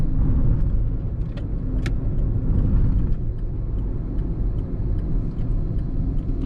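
A 2012 Skoda Rapid 1.6 TDI diesel car swings through a U-turn, its engine a steady loud low rumble with a faint jangle of keys over the cabin noise.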